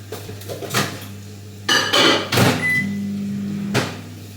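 A microwave oven warming a chocolate croissant makes a steady hum, with door and plate clunks, a beep and a few crockery knocks in a kitchen, and no voices.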